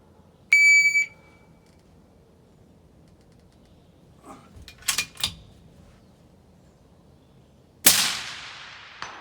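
A shot timer gives one sharp, high electronic beep. After a few seconds of quiet broken by some faint scuffs and knocks, a single loud rifle shot cracks out toward distant targets and leaves a long, fading echo.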